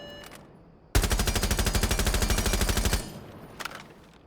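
A rifle fitted with a muzzle brake in Rainbow Six Siege fires one sustained automatic burst of about two seconds, rapid and evenly spaced, after a quiet lead-in, with a faint clatter after the shots stop.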